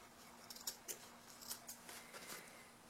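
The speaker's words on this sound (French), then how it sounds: "maintenant je peux découper d'excédents de tissu ici dans les arrondis" Fabric scissors snip away excess cloth along the curved seams of a sewn placemat, a few quiet, close cuts spaced irregularly over a faint steady hum.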